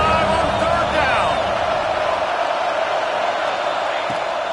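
Stadium crowd in the College Football 26 video game, a loud, steady roar of cheering fans with a commentator talking over it.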